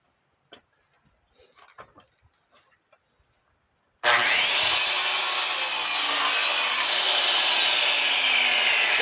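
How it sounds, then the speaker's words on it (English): A circular skill saw rips through a clamped deck board on a house deck after a few soft taps and handling knocks; the blade then roars in loudly and holds a steady high whine to the end. "Clamping the board, using my skill saw."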